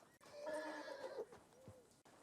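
A horse in Red Dead Redemption II whinnies loudly and close by, a drawn-out neigh with a fainter snort or call near the end.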